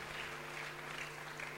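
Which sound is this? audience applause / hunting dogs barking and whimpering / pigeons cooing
audience applause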